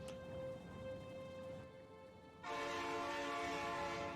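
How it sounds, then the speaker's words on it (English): A train in the Factorio Nullius game passes with a sustained, tonal horn-like drone that swells louder partway through over a rumbling rail bed, fairly near and with no speech. "Kind of expected that train sound there."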